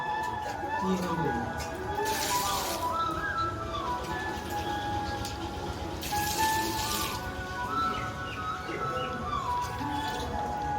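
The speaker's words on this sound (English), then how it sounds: "So we are pouring water into each of the 3 buckets." Water poured into three buckets for soaking and cleaning stones, a continuous splashing, gurgling flow heard close by with faint background noise and no talking.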